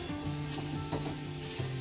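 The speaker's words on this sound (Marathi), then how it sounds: "कांद्याला चांगलं परतून घ्यायचं आहे आपल्याला।" Chopped onion sautés in a pan with oil on a gas stove, giving a steady close sizzle with faint stirring scrapes underneath.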